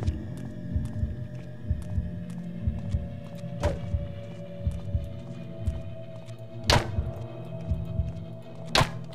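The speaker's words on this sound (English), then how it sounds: "I can kick trash bags." Dull thuds of trash bags being kicked in the video game Manhunt, a few soft impacts spaced seconds apart over a steady low droning game ambience and rhythmic throbbing.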